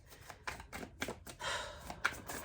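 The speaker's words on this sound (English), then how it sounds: "Let's shuffle up first." Tarot cards being shuffled by hand, a handful of quick riffling bursts in an uneven rhythm, close and fairly quiet, with no talking.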